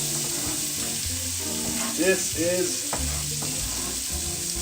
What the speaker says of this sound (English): we're gonna start by frying up some garlic and some onions